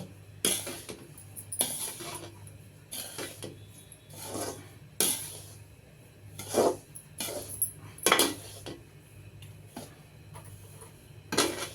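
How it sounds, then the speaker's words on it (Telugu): A rava and beetroot mixture is stirred in a pan, producing irregular scraping and clinking strokes of a spoon against metal at close range over a low steady stove hum. "చూడండి ఈ విధంగా కలుపుతూనే ఉన్నాను నేను"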